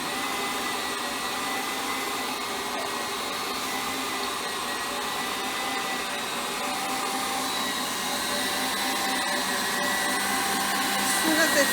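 Electric hand mixer whipping eggs for an orange cake, a continuous close high-pitched motor whine held steady throughout and rising slightly near the end, with faint speech in the background.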